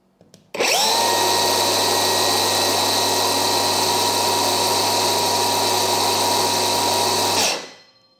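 A Mollar CCS20500 cordless brushless circular saw spins up sharply, holds a loud, steady high whine for about seven seconds with no load, then winds down to a stop; no one talks over it.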